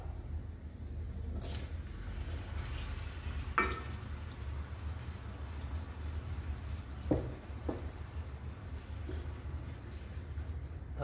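Tomatoes fry in oil in a pan with brinjal, giving a steady low sizzle throughout with a few sharp utensil clinks and scrapes over it.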